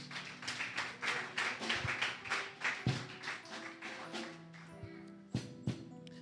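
Church congregation applauding during a sermon: a steady run of overlapping hand claps for several seconds, fading toward the end, with a few sharper single claps after it.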